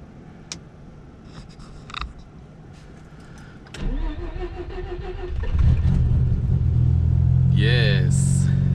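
A car engine cranks and catches after some handling sounds, then idles and revs with a deepening rumble as the vehicle pulls away, growing louder toward the end.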